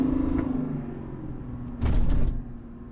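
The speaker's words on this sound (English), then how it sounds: "Yeah, you definitely get the diesel experience from this truck. It sounds loud, lots of low-end torque." A 2021 Chevrolet Silverado 1500 half-ton pickup with a Duramax diesel engine gives a steady low rumble, swelling louder for a moment near the end before settling back.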